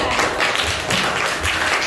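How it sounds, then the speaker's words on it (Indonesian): A classroom group applauds group 2, with dense, fairly loud hand clapping that continues steadily for a couple of seconds. "tepuk tangan dulu untuk kelompok 2"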